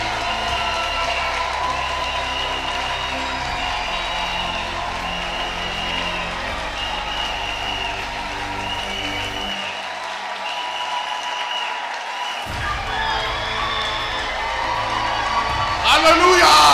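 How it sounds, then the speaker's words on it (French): A church congregation at a pastoral academy gathering applauds and cheers, with dense sustained clapping and whoops over amplified music, and a voice talking over the crowd. "Acclamons pour eux!"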